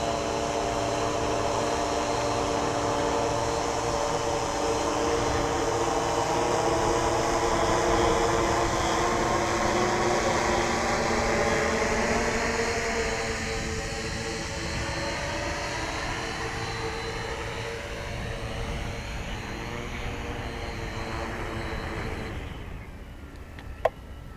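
An EQ electric drone descends to land under manual control after loiter mode, its motors making a loud, steady whine whose pitch slowly shifts as it comes down, closing with a sharp click.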